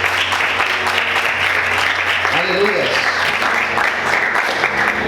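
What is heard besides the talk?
church congregation applauding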